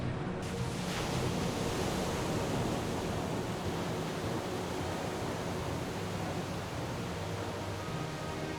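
Stormy Alaskan sea waves give a continuous broad roar of surf and wind, steady and fairly faint throughout, with no breaks.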